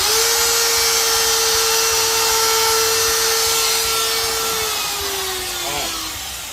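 A router bit plunges into wood, giving a loud, steady high-pitched whine with broadband cutting noise for about five seconds before the pitch sags and the motor winds down.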